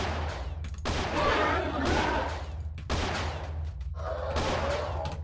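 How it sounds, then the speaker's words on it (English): Force push in a modded Jedi Academy game lets off loud sonic-boom blasts, three or four heavy whooshing bursts in quick succession, each cutting off abruptly, with a voice talking underneath. "Why is it whenever I force push, it does like a fucking like sonic boom?"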